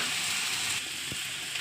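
A dense, loud, steady sizzle rises from a pan of frying spice paste for soybean egg curry: ginger, garlic and tomato pastes with cumin, coriander, chili, green chilies and turmeric. Stirring scrapes faintly underneath.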